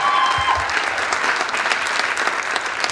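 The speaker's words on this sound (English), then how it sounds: "Everybody give yourselves a big round of applause." Large crowd at a small business revolution reveal event bursts into loud, sustained applause, a dense roar of clapping with cheering mixed in.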